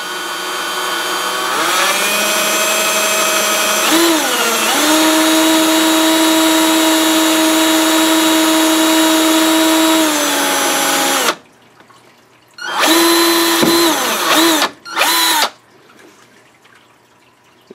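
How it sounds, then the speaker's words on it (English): A power drill bores a hole into an LED heatsink, a loud, close whining motor that runs steadily for about ten seconds, then stops and restarts in a few short bursts; no talking. "And I'm going to start drilling."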